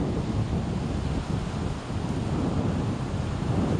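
Strong wind blows across coastal sand dunes as a steady, loud, close rumbling buffet against the microphone, with no pauses and no talk.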